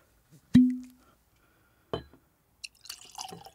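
Coastal Creek peanut butter flavored whiskey, 60 proof, going into a glass: a sharp glassy clink with a short ringing tail, then a second knock and a brief run of quiet splashing liquid.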